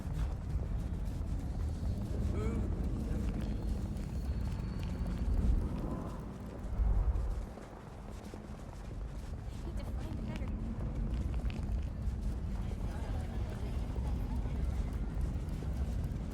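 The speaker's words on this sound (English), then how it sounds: "A horse just rolled into town." Horse hooves clip-clopping in the video game Vampire The Masquerade Bloodlines 2, a steady run of hoofbeats under a continuous low background rumble, with people talking at moments.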